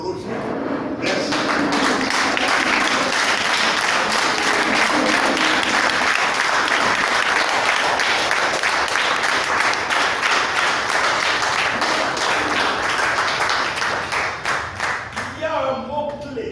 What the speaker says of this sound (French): Je vous convie à vous lever pour applaudir Roger.